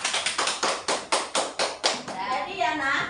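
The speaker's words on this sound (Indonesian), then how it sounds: "Tepuk tangan." A class of schoolchildren claps hands in a quick rhythmic burst of about ten sharp, loud claps, then breaks into excited children's chatter.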